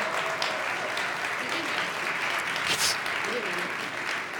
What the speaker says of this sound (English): let's give all of our awesome startups a round of applause